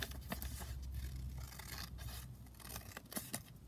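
Scissors snipping paper while making an envelope pocket, quiet close-up cuts in an irregular series of short crisp snips with light rustling between.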